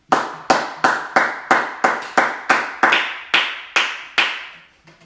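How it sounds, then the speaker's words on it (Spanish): About a dozen sharp, evenly spaced claps ring out at a church Bible study, each with a short decaying tail, loud and close, with no voices. "Denle un aplauso, amén, al Señor Jesucristo en esta hora."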